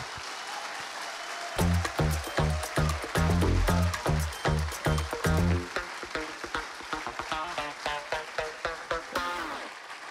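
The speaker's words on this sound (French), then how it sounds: "Je vous demande de faire un tonnerre d'applaudissements, s'il vous plaît, pour Franck et Christophe Boursault." A crowd at a flour mill's jubilee celebration gives a thunderous ovation, with full clapping that swells into a beating rhythmic pulse early on, then settles into continued, slightly thinner applause.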